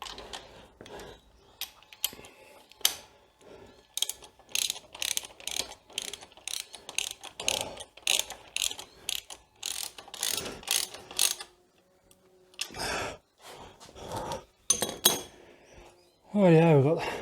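Ratchet wrench tightening an engine mounting bolt on a Suzuki V-Strom 650 motorcycle during an engine swap, rapid clicking bursts with metallic clinks and pauses, close by, with brief speech near the end.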